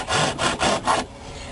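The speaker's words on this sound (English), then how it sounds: "the blade from a hacksaw" A hacksaw blade cuts through car dashboard plastic during a radio install, making four quick rasping back-and-forth strokes, close and distinct, followed by quiet.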